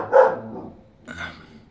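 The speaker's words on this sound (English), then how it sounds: "Fucking dog." Two barks from a dog in the background, one loud burst followed by a slightly softer second bark a second later, heard alone without talk.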